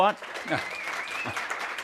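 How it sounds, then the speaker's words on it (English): Audience applause for panelists at a talk on dimming the sun, a moderate run of clapping with voices audible on top of it. "So give them a round of applause to get them going"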